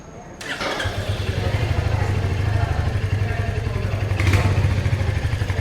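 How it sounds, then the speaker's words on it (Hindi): A 2025 Royal Enfield Hunter 350 fires up close by, then settles into a steady, deep thumping single-cylinder idle with a brief blip of the throttle near the end. "हंटर को कर लेते हैं स्टार्ट और सुन लेते देखते हैं एग्जॉस्ट नोट कैसा रहता है"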